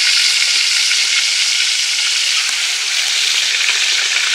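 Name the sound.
fish frying in a pan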